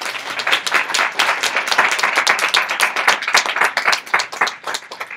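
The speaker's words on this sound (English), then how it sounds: "Can we give a round of applause?" A panel discussion audience breaks into loud, sustained applause, dense rapid claps from many hands continuing steadily and close throughout.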